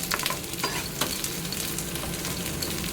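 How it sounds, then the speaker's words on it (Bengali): Onion and dried red chillies fry in a pan with a steady, close sizzle, broken by occasional scraping stirs and light clicks throughout. "পেঁয়াজ আর শুকনো লঙ্কা ভাজছি"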